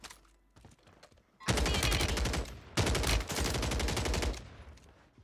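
Rapid automatic gunfire in Call of Duty Warzone on Rebirth Island, two loud sustained bursts close up after a quieter stretch of scattered background noise, with no talking.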